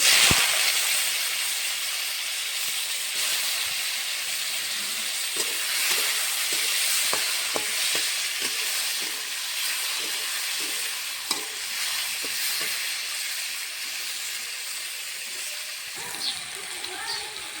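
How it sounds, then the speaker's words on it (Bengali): Potatoes fry in hot mustard oil in a wok, giving a steady, loud sizzling hiss with scattered scraping and stirring clicks throughout. "কড়াইতে দিয়ে দিয়েছি সর্ষের তেল, গরম হয়ে গেছে। আলুটা ভেজে নেব।"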